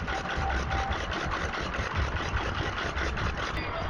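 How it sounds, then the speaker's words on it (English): A small Wolseley stationary engine chugs steadily while driving a kibble mill for grinding corn at an outdoor steam rally, an even rhythmic beat close by. "This little Wolseley engine is driving what's called a kibble mill"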